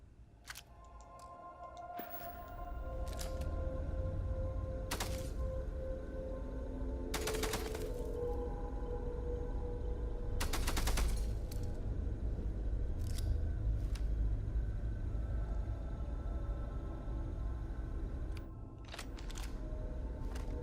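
Video game gunfire comes as several sharp, separated bursts of shots over a low, steady background, with gaps between the volleys and a final quick pair near the end.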